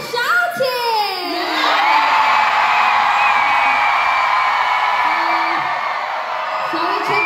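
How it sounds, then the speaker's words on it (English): A large concert crowd at a show in Berlin shouts, whoops and cheers loudly and continuously, with high-pitched screams rising over a dense, sustained roar of many voices. "we're gonna check how fun you're having by listening to your shouting!"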